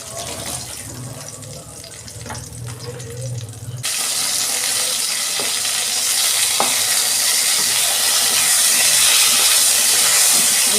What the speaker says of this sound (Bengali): আমি বেগুনটা তেলে দিয়ে ভেজে নিচ্ছি